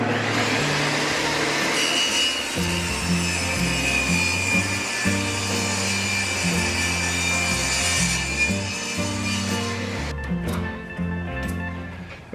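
Scrap wood being cut with a hand saw for a target holder: steady, rhythmic back-and-forth rasping strokes, close and continuous, alone with no talk, ending as the cut finishes.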